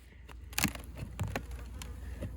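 Honey bees droning around their hive in summer, a close, steady buzz with individual insects zipping past the microphone and brief taps among them, alone without voices.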